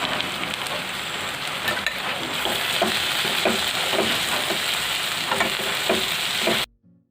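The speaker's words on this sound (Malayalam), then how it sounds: "ഇതും 1/2 ക്യാപ്സിക്കവും 5 പച്ചമുളക് അരിഞ്ഞതും ഒരു 5 ചെറിയ വെളുത്തുള്ളി അരിഞ്ഞതും ഇടാൻ പോവാം" Chopped capsicum, green chillies and small garlic cloves fry in a pan with a dense, even sizzle and occasional stirring clatter, steady for several seconds before cutting abruptly to silence.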